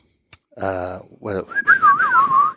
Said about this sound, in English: I like how we both couldn't say the word for flute, but we could whistle.